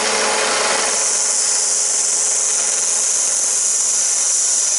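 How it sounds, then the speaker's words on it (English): A belt sander grinds steadily on a custom metal intake manifold in a fabrication shop, a loud continuous abrasive hiss that runs unbroken from start to finish with no talking. "we got the belt sander"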